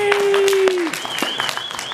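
Convention audience clapping at BABSCon 2018, a short burst of scattered applause and cheers following a voice actor's introduction, with a voice briefly speaking over the start.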